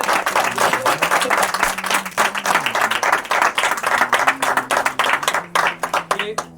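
Church congregation clapping loudly and steadily in praise, a dense continuous wash of many hands with a voice speaking over it throughout.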